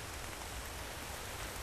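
Rain in the survival video game The Infected, a dense, even hiss of falling rain filling the short stretch without a break, steady and close with no voices.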